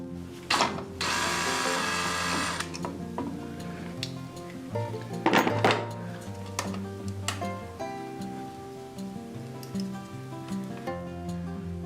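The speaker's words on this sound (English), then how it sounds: "the first thing I'm going to do is take these 2 screws out and then pull this down" A screwdriver or drill whirs in a brief burst while screws are backed out to take down a barn-style light fixture, followed by faint ticking and clicking of handling over quiet background music.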